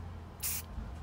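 A short hiss of Krylon Glitter Blast spray paint on a bicycle fender, one light burst of about a fifth of a second, close and clear over a low background hum.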